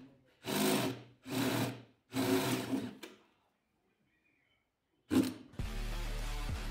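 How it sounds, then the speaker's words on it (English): Three long, steady bursts of a high-pitched drill whirring as it bores pilot holes for motorcycle pannier mounts, separated by short pauses, then a brief silence before another drill burst and a low motor hum. "Now I'll drill pilot holes before drilling the bigger holes."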